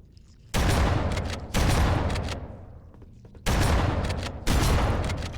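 Shotgun blasts in Halo CE Anniversary: four loud, heavy booms spaced about a second apart, each trailing into a rumbling decay.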